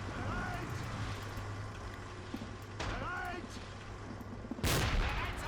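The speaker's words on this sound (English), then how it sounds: "Germans firing some AT grenades." Several sharp bursts of German anti-tank grenade fire ring out in a World War II battle in Men of War: Assault Squad, the loudest near the end, over a constant wind-like rumble with faint whistles.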